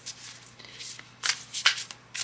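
Tarot oracle cards are shuffled up close in a quiet room, with several short papery riffling bursts and brief pauses between them.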